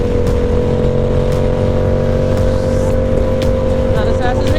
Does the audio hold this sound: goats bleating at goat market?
no